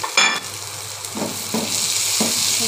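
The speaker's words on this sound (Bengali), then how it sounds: "দিয়ে কিছুক্ষণ ভাজি করে নেব।" Bombai chili and garlic frying in a pan, giving a loud, close, steady sizzle, with a few stirring scrapes at intervals and the hiss swelling louder toward the end.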